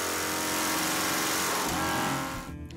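An S&S motorcycle engine fitted with drag pipe exhaust revs hard on a dyno, producing a loud, sustained, raspy roar that holds steady before easing off at the end.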